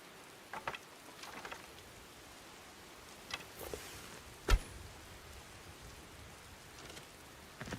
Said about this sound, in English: Oh, it's just starting to rain.